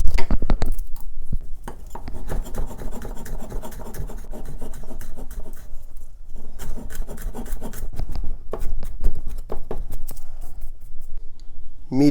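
Garlic cloves minced with a knife on a wooden board, a rapid, steady rasping chop that runs almost continuously with a few short pauses, close and loud.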